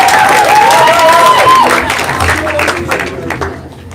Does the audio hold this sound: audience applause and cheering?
yes